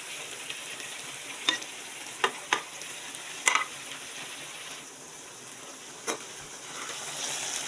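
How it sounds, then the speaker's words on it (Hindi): Tomatoes and spices are stirred slowly in a frying pan over a steady sizzle, with a few sharp spoon scrapes and clinks spaced through it; no one speaks. "आस्ते आस्ते आस्ते इसे मिक्स करते हैं"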